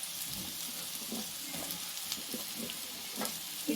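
Mushrooms sizzling and frying in a pan with turmeric for a mushroom butter gravy, a steady close hiss with soft stirring scrapes throughout, no voices.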